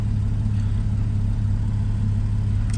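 Up close, a 2012 Porsche 911 Carrera S PDK Coupe Launch Edition idles with a steady, deep, throaty rumble that stays even and unbroken throughout.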